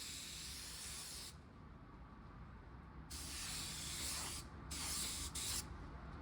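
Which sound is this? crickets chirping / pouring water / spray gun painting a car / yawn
spray gun painting a car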